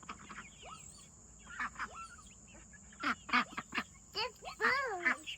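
A homestead bird, apparently goose or duck, gives a run of loud honking calls, sparse at first then bunched into rapid repeated honks, close by outdoors, with some voices mixed in.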